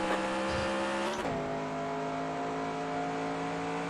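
A race car engine in the video game NASCAR Racing 2003 drones loudly and steadily, its pitch dipping once early on before settling into a sustained hum, with no talking.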